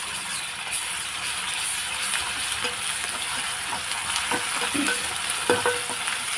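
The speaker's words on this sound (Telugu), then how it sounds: "ఇప్పుడు కొంచెం అల్లం పేస్ట్ వేస్తున్నానండి." Ginger paste fries in a pan for a cauliflower and potato curry, a continuous crackling sizzle with occasional spoon knocks and scrapes, close and steady, no one speaking.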